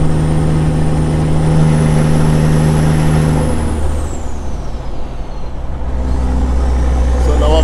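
A Peterbilt 379 with a CAT engine and 7-inch straight pipes runs through the gears of an 18-speed transmission on a highway, its loud, close engine drone dipping and settling as it shifts into top gear, with a whine sliding downward.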